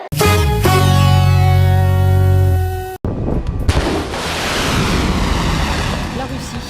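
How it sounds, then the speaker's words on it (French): Cruise missiles fire from a frigate and a submarine at sea in the Mediterranean, a loud sustained tonal roar followed by a broad rushing blast that fades into a long, windy whoosh. "A tiré 4 missiles de croisière depuis une frégate et un sous-marin déployés en mer Méditerranée."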